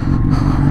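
A motorcycle engine drones steadily and close by on a mountain road climbing to the Col du Galibier pass, a brief, even hum with slight clatter.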